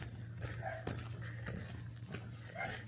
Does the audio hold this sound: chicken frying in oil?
no